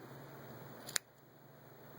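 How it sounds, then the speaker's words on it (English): A single crisp snip of scissors cutting through crochet yarn, one short sharp click near the middle against a faint steady room hum. "Take your scissors and you're going to go right through."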